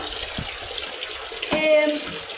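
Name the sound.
water flowing from a fountain in a park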